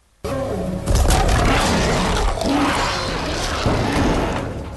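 A silver grenade explodes in a confined space in an action film scene: a sudden loud burst followed by a rumbling roar with crashing, shattering debris and further thuds that carry on for several seconds.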